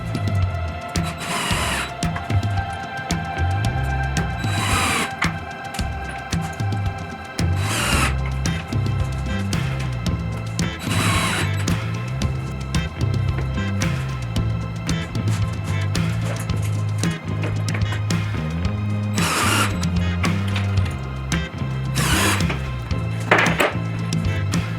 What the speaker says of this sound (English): attach the sides to the back legs with wood glue and 1 1/4 inch pocket hole screws